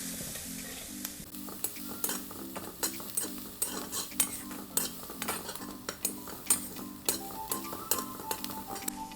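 Turmeric and coriander powder being stirred into onions in a pan, with a soft continuous sizzle and repeated metal spoon clinks and scrapes in an uneven rhythm.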